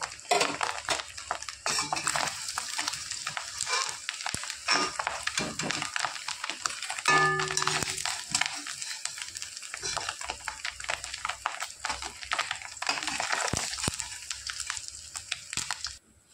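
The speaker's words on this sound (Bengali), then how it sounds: "বাদ বাকি বড়াগুলো আমার ভাজা হয়ে গেছে," Fish roe fritters fry in hot oil in a pan, giving a steady, close sizzle with occasional scraping and clinks of a utensil against the pan as they are lifted out.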